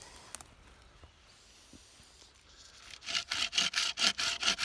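A hand saw rasps through a dead tree branch in quick rhythmic back-and-forth strokes, close and fairly loud, after a few quiet scrapes and clicks.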